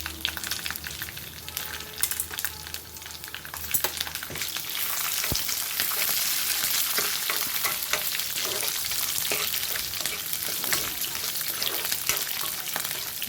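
Dry red chillies, green chillies and curry leaves frying in hot oil for a tempering, a loud close crackling sizzle that swells and stays dense and steady after the first few seconds.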